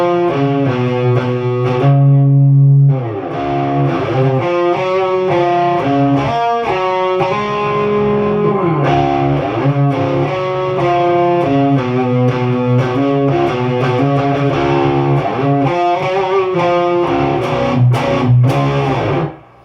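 An electric guitar plays the closing section of a song slowly with a distorted, effects-laden tone, sounding loud and close as sustained notes and melodic runs carry on steadily without talk.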